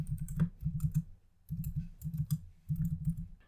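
Keys clatter on a computer keyboard as Java code for a singly linked list is typed, coming in three quick bursts of close, crisp clicks separated by short pauses, with no talking.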